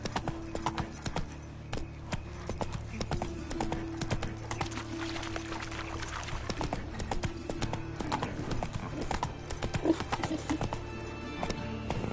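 Roach the horse galloping in The Witcher 3, a fast continuous run of hoofbeats with a low game soundscape underneath.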